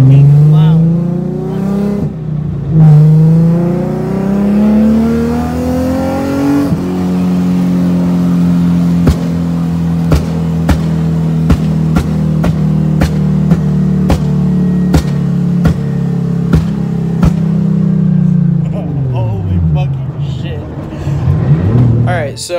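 Nissan 350Z engine revving hard with a rapid string of sharp exhaust backfire pops cracking over the loud, sustained rumble; voices are briefly audible around it.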